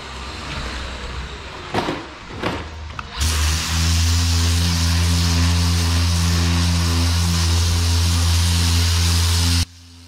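A power sander with 120-grit paper switches on and runs steadily over car body filler, giving a loud, even droning whir with a broad hiss, then cuts off abruptly.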